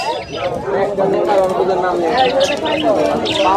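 Birds at a large pigeon market in Tangail, with soft cooing and chatter blending into a busy crowd, while someone talks continuously over the noise.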